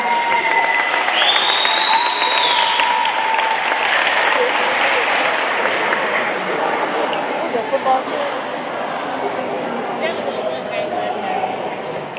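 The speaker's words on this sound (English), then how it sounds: "Let's give a round of applause for Jamal." Sustained applause from a large crowd, steady and loud throughout, with a few whistles and shouts rising over the clapping.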